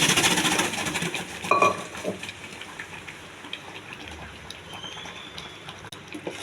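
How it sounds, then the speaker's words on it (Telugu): A spoon stirs cooked millet and moong dal pongal into a tempering of garlic and curry leaves in a pan, a soft wet scraping and squelching, louder at first, then a quieter steady churn. "ఒక సిమ్లో గట్టి పడేంత వరకు పొంగల్కి కలుపుతూ ఉండాలండి."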